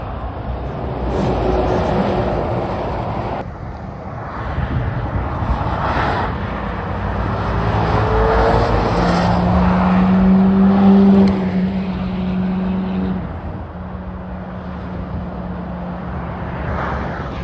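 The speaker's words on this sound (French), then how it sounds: "une belle 458 Spider rouge derrière, magnifique. Elle a vraiment fait un bruit." A red Ferrari 458 Spider passes on the A28 motorway near Le Mans during Le Mans Classic, its engine rising in a loud, strained tone over steady road noise before fading away.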